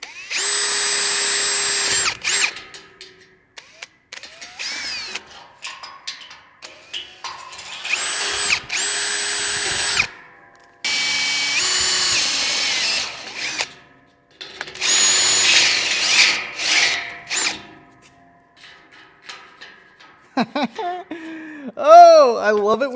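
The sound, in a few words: power drill drilling a hole through from both sides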